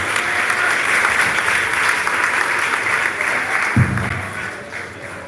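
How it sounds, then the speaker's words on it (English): Steady, sustained applause from a large crowd fills a high school graduation ceremony in Jamaica, dense and even throughout, with a brief thump near the end. "Give it a round of applause"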